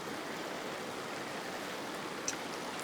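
Water poured into hot oil in a pot of mutton rice throws off a steady, close rushing hiss of steam, level and unbroken, with a small clatter near the end.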